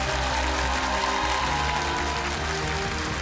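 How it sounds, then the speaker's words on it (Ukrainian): Sustained audience applause at a televised singing competition, The Voice of the Country, a full, even roar of clapping with a low musical hum beneath it. "Ще раз ваші оплески. Браво!"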